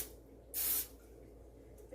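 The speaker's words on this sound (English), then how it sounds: "I'm going to spray it with a little bit of spray" A single short burst of cooking spray hits a metal ice cream scooper, a sharp bright hiss lasting under half a second, close and clear against an otherwise quiet kitchen.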